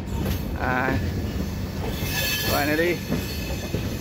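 The Raptisagar Express from Gorakhpur pulling into the platform at Kochuveli, with a loud steady rumble and high squealing wheels rising and falling, while a person talks over it.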